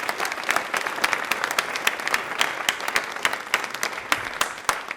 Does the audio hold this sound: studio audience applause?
yes